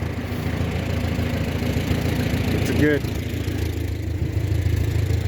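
A log-lifting machine's engine idles steadily under talk, a mid-pitched running drone that holds through the whole stretch with a brief clatter near the middle.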